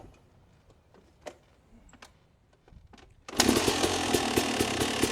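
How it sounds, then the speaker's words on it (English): A two-stroke trail dirt bike is kicked over and fires up abruptly after a few seconds of quiet outdoor ambience, then settles into a loud, raspy, steady idle with a rapid ragged pulse, close by. "I'm gonna ask him to fire it up real quick. So we can hear the 2-stroke."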